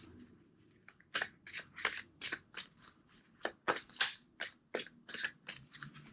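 A tarot card deck being shuffled during a reading, giving a rapid run of crisp riffling bursts and soft slaps, close and fairly quiet, with no talking.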